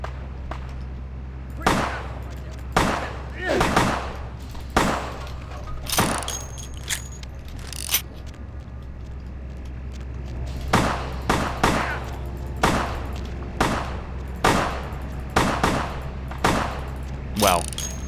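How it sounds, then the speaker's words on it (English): Gunfire from enemies being shot in the video game Vampire: The Masquerade – Bloodlines, a series of sharp, loud shots in irregular bursts over a steady low hum, without voices. "so time to shoot them"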